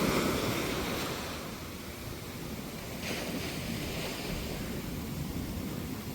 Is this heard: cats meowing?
no